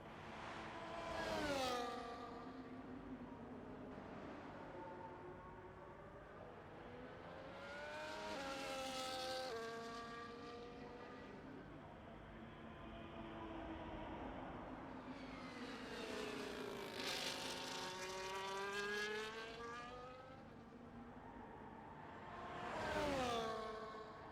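An F1 race car engine on a hot lap around the Baku circuit in a video game, screaming up through the gears in repeated rising revs, fading and swelling as it passes, with no talk.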